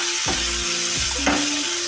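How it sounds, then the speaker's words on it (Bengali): Pointed gourd (potol) pieces sizzle in hot oil in a pan, a steady loud frying hiss broken by a couple of stirring scrapes. "একটুখানি নুন দিয়ে দেবো পটলে অল্প করে এবার এটাকে আমি ভেজে নেব"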